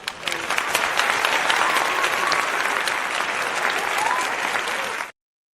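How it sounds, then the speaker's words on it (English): Dense, steady applause from a crowd fills about five seconds at an even loudness, then cuts off sharply into silence. "you're definitely going to get the applause on that one right there"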